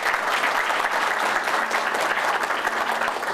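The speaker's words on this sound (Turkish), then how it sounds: "Evet, bir alkış da onlara yapalım." A room full of people claps steadily, a dense, even wash of applause that holds from start to finish.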